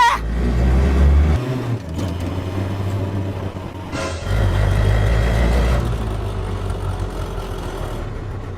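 A vehicle engine is revved loudly and close, with a heavy roar that drops back and then surges again, alone without voices.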